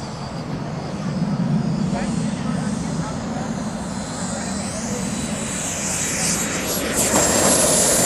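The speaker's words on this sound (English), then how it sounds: "as he goes ahead and fires up that turbine, and he's on his final as he turns" A model jet aircraft's small turbine whines steadily overhead on landing approach at an air show, rising into a brighter, louder roar near the end as it passes close.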